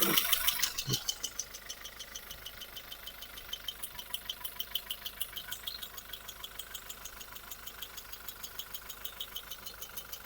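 A car engine idles steadily after a seized starter motor was repaired on a cold day, a fast regular knocking pulse running throughout at close range, with a brief louder burst at the start.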